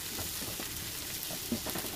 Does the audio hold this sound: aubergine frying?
yes